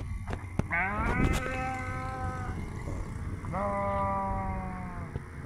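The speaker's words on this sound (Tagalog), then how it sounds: "Ayun yung mga tupa dito. Ang puting tupa, guys." White sheep on a farm in Saudi Arabia bleat twice, long wavering calls heard fairly close against steady outdoor background noise.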